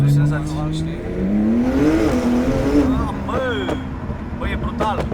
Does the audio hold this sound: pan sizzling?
no